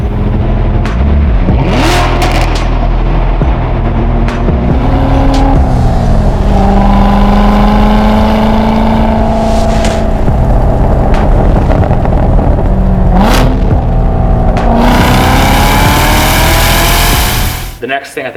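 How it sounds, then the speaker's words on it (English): A 2020 Chevrolet Corvette C8 with its small-block V8 revs loudly up close, rising and falling through repeated throttle blips and pulls, with sharp bursts between them. "you can't deny that the small block Chevy V8 just sounds really good."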